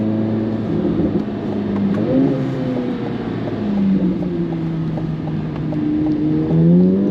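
A modified C8 Corvette Z06 accelerating hard on throttle, heard from inside as a steady engine drone whose pitch climbs, dips at a gear change and climbs again, loud and continuous.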